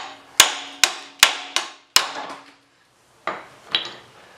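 A hammer striking a front stock suspension part on a Jeep CJ7 rings out in five loud metallic blows at an even pace, then a pause and two more hits.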